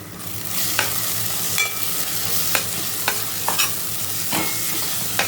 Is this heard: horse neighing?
no